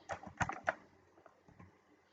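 Keystrokes on a computer keyboard while searching a data website, a quick cluster of clicks followed by sparser, fainter taps, close and quiet with no talking.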